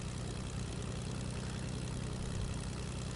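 Airplane engine drone in the Fortnite video game, a steady, dense propeller-like roar held at constant level throughout with no talk.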